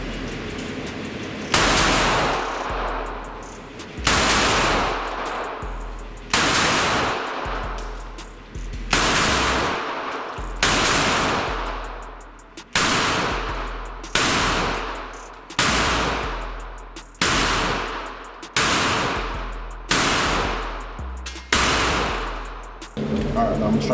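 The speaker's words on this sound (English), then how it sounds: "Just shooting the firearm upside down, 2 rounds loaded up." Taurus G3 9mm pistol fired in a steady series of about a dozen sharp, loud shots spaced roughly two seconds apart, each with a ringing decay.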